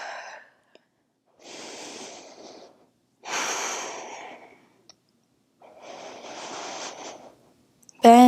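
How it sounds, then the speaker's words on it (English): Slow, deep breaths during a backbend vinyasa yoga flow, three or four long airy inhales and exhales close to the microphone with quiet pauses between them. "We'll take a few deep breaths here."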